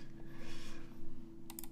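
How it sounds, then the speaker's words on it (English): Near the end, a quick burst of three or four keystrokes comes from a lubed Mode Sonnet mechanical keyboard fitted with GMK Hallyu keycaps. The strokes are quiet and close-up over a low, steady electrical hum. "I'll do another typing test"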